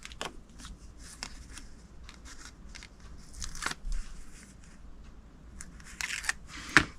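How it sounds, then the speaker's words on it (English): Paper backings are peeled one by one off strips of adhesive tape with a Take Your Pick tool on a flower seed card craft, giving close, dry crinkles and sharp crackly peels at irregular intervals. "I'm going to take my Take Your Pick tool, and I'm going to take the backings off all 3"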